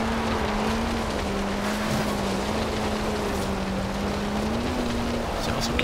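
A 1977 Ford Escort RS1800 with a small engine in Forza Horizon 2, a steady droning hum at near-constant pitch under a dense hiss of road and wind noise, with no break for the whole stretch.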